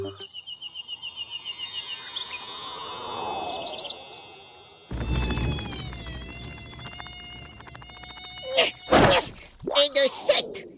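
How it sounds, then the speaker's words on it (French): A cartoon mosquito's high, thin whine buzzes steadily over a musical score, then becomes a busier comic buzz with tinkling effects, ending in a couple of sharp whacks and other cartoon noises. "Et de 7, sale moustique!"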